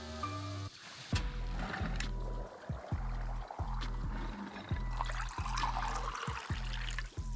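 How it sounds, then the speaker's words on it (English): Tea poured out in the video game Wanderstop, a continuous liquid trickle heard under a steady musical background of plucked, rhythmic notes. "Let's pour out some tea."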